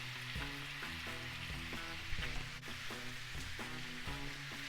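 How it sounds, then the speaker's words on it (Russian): Sliced onion sizzles in a pan with potatoes and pork cracklings, a dense, steady frying hiss with some low rhythmic tones in the background. "Теперь эту луковицу я отправляю к картофелю."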